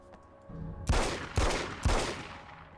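Three sharp, loud gunshots ring out in steady succession in the video game American Nightmare, each with a short echoing tail, after a quiet start.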